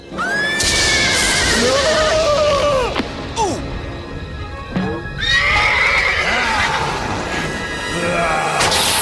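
A horse whinnies loudly several times, with hoof clatter and crashing thuds mixed in, close and busy throughout.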